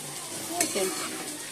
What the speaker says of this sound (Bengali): আর একটু ঘি আর গরম মশলা দিয়ে দেবো তাহলেই বাঁধাকপি রেডি